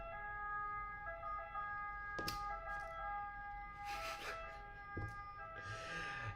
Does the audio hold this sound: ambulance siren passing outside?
yes